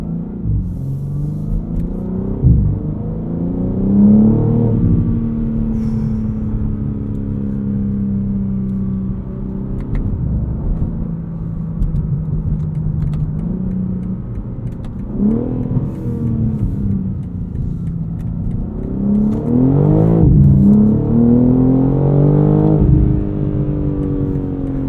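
A 2023 BMW M3 Competition xDrive Edition 50 Jahre in Sport Plus pulls hard from a start, engine rising through the revs in repeated surges with quick gear-change dips, loud and close from inside the cabin.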